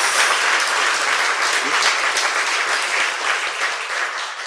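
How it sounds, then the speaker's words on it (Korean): A studio audience at a Korean talk show gives a steady, full round of applause that holds throughout and eases slightly toward the end. "보도가 제대로 안 됐지만 박수 부탁드립니다."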